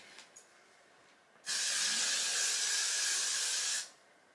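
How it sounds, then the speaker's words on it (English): A steady aerosol hiss of hairspray lasting a couple of seconds, close and loud, then cutting off abruptly. "give it a good spray"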